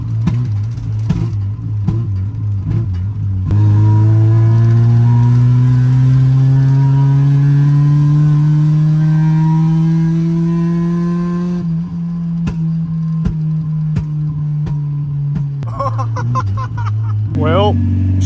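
A Mazda Miata revs hard while driving, its engine note climbing steadily for several seconds before easing off, then choppy crackles and exhaust pops follow near and loud; a voice talks over the start and end.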